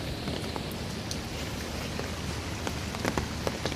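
Rain falls steadily on a waterlogged street, a dense, close hiss of drops splashing into standing water, with a few louder drips near the end.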